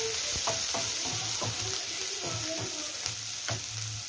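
Finely chopped onion frying in a pan, a continuous close sizzle broken by regular scraping stirs and soft knocks of a spoon against the pan, no voices.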